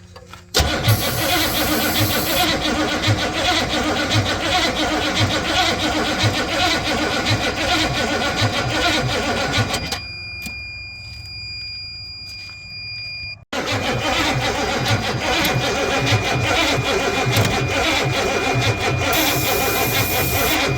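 Ford F250 truck engine cranking and starting, loud and close: a long grinding crank, a pause with a faint whine, then another crank that catches into a running engine.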